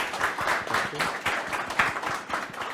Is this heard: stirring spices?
no